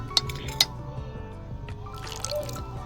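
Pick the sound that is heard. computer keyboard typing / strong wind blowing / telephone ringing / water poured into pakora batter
water poured into pakora batter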